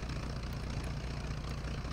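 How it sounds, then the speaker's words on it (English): Aircraft engine in Kerbal Space Program running steadily as a continuous low droning hum, moderately loud with no talking. "Kill the engine."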